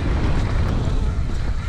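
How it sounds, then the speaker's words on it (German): Gusty wind roars across a downhill mountain-bike track at Špičák in the Czech Republic during an IXS Downhill Cup race weekend, a steady, loud, low buffeting rush against the microphone with no clear voices. "Pretty windy."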